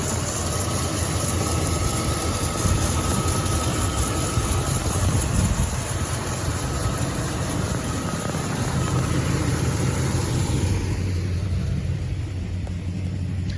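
A 1971 car engine, recently treated with fuel injection cleaner, idles steadily with a low, even rumble, easing slightly quieter near the end; no one speaks.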